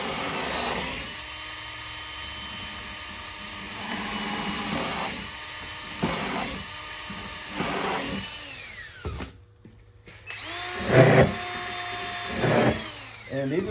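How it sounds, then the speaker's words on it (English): A power drill drives screws into a composite decking bottom board for a screened beehive floor, with several short bursts of whirring spaced a second or two apart, close and fairly loud, ending in two stronger runs. "And now we'll screw in this bottom board."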